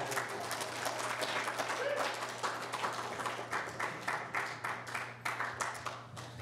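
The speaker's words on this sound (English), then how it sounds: "So we're just going to give you a round of applause for that." A church congregation gives a round of applause during a Sunday service, clapping from a moderate distance that thins toward the end into scattered, distinct individual claps over a low steady hum.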